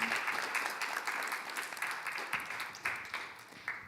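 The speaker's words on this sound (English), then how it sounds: "Give a round of applause to our panelists." An audience at a telematics industry panel claps for the panelists, a fairly quiet, steady round of applause from a modest crowd, with a few sharper individual claps standing out near the end.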